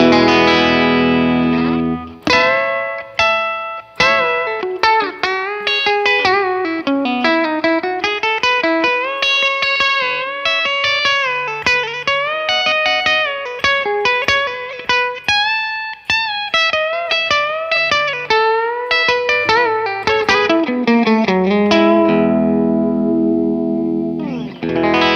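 1958 white blonde Fender Telecaster electric guitar on its bridge pickup, played as a continuous melodic run of single notes and chords with bright twang, effects and reverb, loud and close with no talk.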